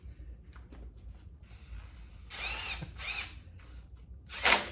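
A power tool tightens bolts while a 409 Cleveland engine is assembled, whirring in several short bursts of rising intensity with brief pauses between them and a final loud ratcheting burst, close and clear with no talk.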